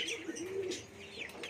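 A dove nesting with newly hatched chicks on a farm gives faint, soft drawn-out coos with a few light chirps, heard alone at a distance.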